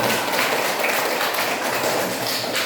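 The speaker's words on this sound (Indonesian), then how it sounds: "Oke, tepuk tangan." A primary school class claps together during an integrated lesson, giving a dense, steady wash of applause that fills the moment evenly without any talk over it.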